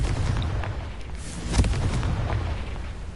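The Confringo fire spell is cast in Hogwarts Legacy near the Forbidden Forest, giving a rumbling blast with one sharp explosive burst partway through over a dense background roar.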